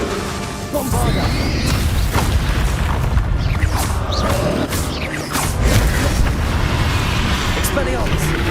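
A Bombarda spell detonates in Hogwarts Legacy, a loud booming blast amid continuous crashing combat noise and a swelling score, running for several seconds with voices and effects layered over it.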